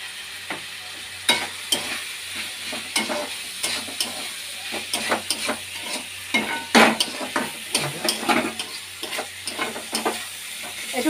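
Bata fish curry with potato, onion and chilli frying in a pan, with continuous sizzling and frequent irregular stirring clatters and scrapes, close and moderately loud, no voices.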